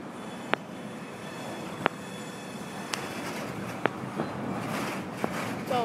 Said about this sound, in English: There goes the scrap car.